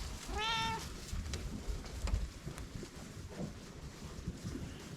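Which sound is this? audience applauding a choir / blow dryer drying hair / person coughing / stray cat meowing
stray cat meowing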